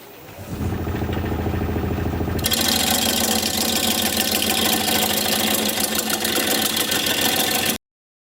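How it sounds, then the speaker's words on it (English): Wood lathe spinning a holly live-edge bowl while a square carbide cutter works the bottom: a dense, loud whirring roar that thickens into harsh steady cutting noise, then stops abruptly. "I'm going to switch to a square carbide cutter and just come in here straight in and start working at this bottom"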